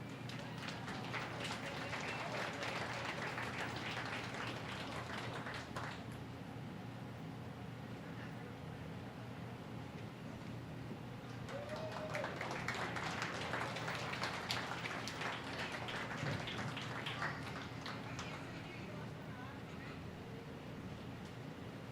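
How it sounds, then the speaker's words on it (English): Audience applause at a county fair dairy show swells into two long waves of steady clapping over a constant low hum from the arena. "Please give them a round of applause."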